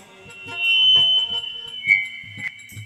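Audience whistling at a devotional guru mahima bhajan: one loud, shrill tone held for about two seconds, then shorter piercing blasts over steady, rhythmic low thumps.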